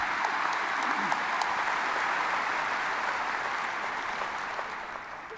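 A graduation audience for the 2019 class applauds in a dense, sustained wave of clapping that gradually fades toward the end.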